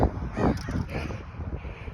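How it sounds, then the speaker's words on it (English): Crows fight and caw outdoors, harsh overlapping calls bursting loudly at the start and then continuing raggedly at a moderate distance. "Oh, crows fighting."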